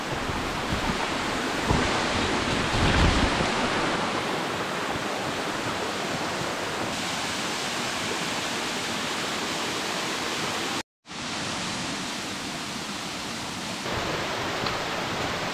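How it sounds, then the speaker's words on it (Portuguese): Steady roaring rush of a waterfall close by on a canyon trek, broadband and constant for the whole stretch with a brief dropout near the end, no talking over it. "e aqui mais uma cachoeira."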